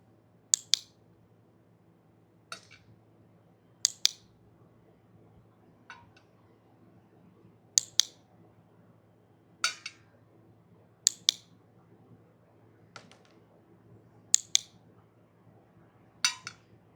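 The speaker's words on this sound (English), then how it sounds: "We want to make sure that we click and then put our hand in the treat pouch" A dog training clicker snapping in sharp, close double clicks, roughly one pair every one to two seconds across about a dozen repetitions, each followed by a brief rustle of a hand going into a treat pouch, with a faint hum underneath and no speech.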